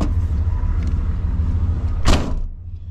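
A 1987 Monte Carlo SS engine running after cranking, a loud close low rumble that holds steady, then a sharp clunk like a door shutting near the end before the sound drops away.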